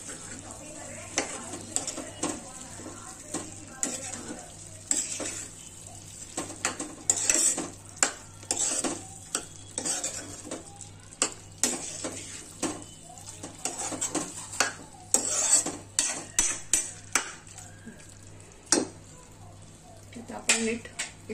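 Grated fresh coconut is stirred into a raw banana stir-fry with a spoon scraping and clinking against the pan in irregular strokes, over a low sizzle and steady background hum.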